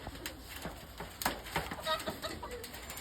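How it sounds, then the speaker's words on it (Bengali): A stray pigeon caught at dusk coos faintly, with soft low coos mixed with clicks and rustling nearby. "তো দেখেন একটা আলগা কবুতর খাচ্ছে"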